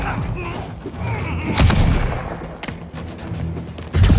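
Explosions go off in Marvel's Spider-Man Remastered: two heavy booming blasts about two seconds apart, the second near the end, over a busy bed of combat noise and scattered thuds.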